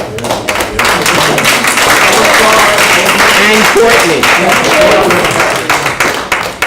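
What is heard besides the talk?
audience applause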